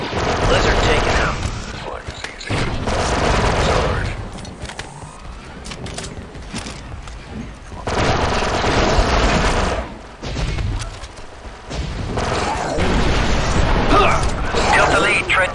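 Bursts of rapid blaster fire crackle through a city battle in Star Wars: Republic Commando, loud sustained volleys broken by short lulls, with mechanical clanks and voices speaking over the fighting.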